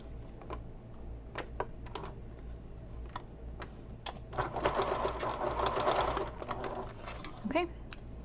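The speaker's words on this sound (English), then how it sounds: "And sew it, top stitch it." A domestic sewing machine top-stitching a messenger bag, with scattered single clicks leading into a few seconds of fast, steady needle chatter, then more isolated ticks; quiet and close.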